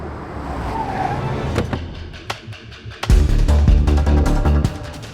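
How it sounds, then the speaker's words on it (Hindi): A car pulls up on a busy Indian street, its engine rising loudly and close with brief tyre noise, preceded by scattered knocks and background clatter. "आप लोग हट जाइए, गाड़ी आ रही है, प्लीज हटिए।"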